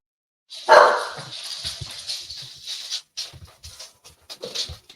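Puppies barking in short, high yips and bursts, one loud bark at the start followed by a scatter of smaller barks and panting.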